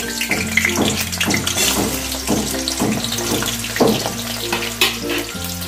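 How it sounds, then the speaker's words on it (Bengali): Potatoes frying in mustard oil give a steady, close sizzle that runs through the whole stretch under background music, with no one talking. "আমি এবার প্রথমে আলুগুলোকে একটু ভেজে নেব।"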